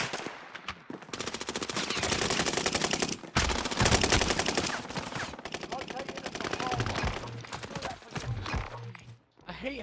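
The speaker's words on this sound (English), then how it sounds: "And headquarters are shooting us!" Rapid bursts of automatic gunfire rattle almost nonstop through a chaotic Call of Duty: Modern Warfare firefight, with excited players shouting over the shooting.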